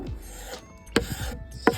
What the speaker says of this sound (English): And then I use my paint scraper to kind of scrape some of it off.